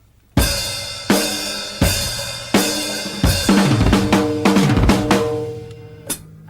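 Rock drum fill with doubled bass drum strokes on a full kit, played in time: several accented cymbal crashes and tom rolls cascading downward over about six seconds, close and loud with no voices.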